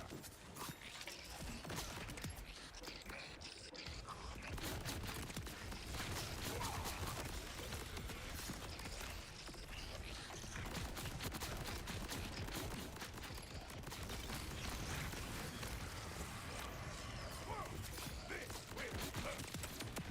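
Rapid automatic gunfire from the Convergence weapon in a video game, sustained dense bursts running nearly the whole stretch at a steady loud level, with game sounds mixed in.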